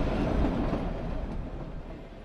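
The Shivalik Deluxe Express toy train runs on the Kalka–Shimla mountain line toward Shimla, a low rumbling roll of wheels on track, steady and close, with no talk.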